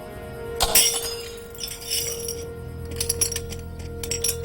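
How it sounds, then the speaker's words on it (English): A drinking glass is knocked over and breaks with a sharp crash and clinking shards, then smaller tinkling clinks of glass settle over the next few seconds, close and fairly loud against a faint hum. "I knocked over my glass."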